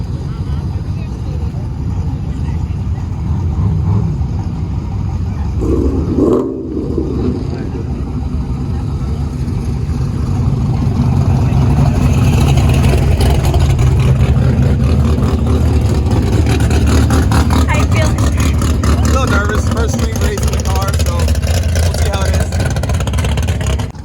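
Engine of an AWD Honda Civic race car at a no-prep drag race, a steady loud broadband roar held for most of the stretch, with a brief dip near the middle and the drone building slightly later on.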